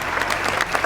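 A crowd at a celebrity tennis match bursts into brief, close applause, a quick flurry of clapping.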